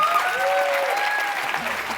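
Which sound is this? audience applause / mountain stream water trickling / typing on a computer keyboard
audience applause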